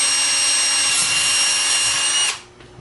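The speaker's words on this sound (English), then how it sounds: "you drill a hole directly in the center" A power drill bores a hole through the center of a cap while building a DIY multi-cell battery pipe, a steady loud whine that runs for over two seconds, then cuts off abruptly into near silence.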